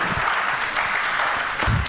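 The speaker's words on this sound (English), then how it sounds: "may I have a round of applause for such a great guy" A conference audience claps steadily after a presentation, a dense wash of applause from many hands, moderately loud and continuous for a couple of seconds.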